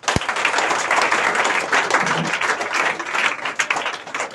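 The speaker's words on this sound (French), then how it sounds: "On peut acclamer le Seigneur." A church congregation bursts into loud, sustained applause to acclaim the Lord, dense clapping from many hands filling the room at close range after one sharp clap at the start.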